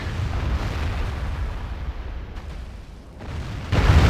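In a Total War battle, an artillery shot strikes a castle wall, a deep rumbling blast with crumbling debris that fades away before another heavy boom begins near the end.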